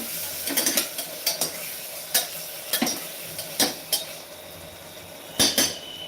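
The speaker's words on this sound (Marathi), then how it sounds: "टोमॅटो कापून घेतलेला आहे बटाटे पण टाकून दिले करते मग मिक्स करून घ्यायचे" Potatoes and chopped tomatoes are stirred in oil in a pan, a utensil scraping and clinking against the metal in irregular bursts over a faint steady sizzle; no one talks.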